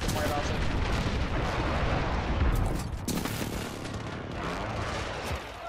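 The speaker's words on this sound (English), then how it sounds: "Friendly precision airstrike on the way." Heavy, rumbling explosions from a precision airstrike in Call of Duty Modern Warfare on the Rust map during a Hardpoint match, loud and continuous with a large burst near the middle, mixed with gunfire and a voice speaking.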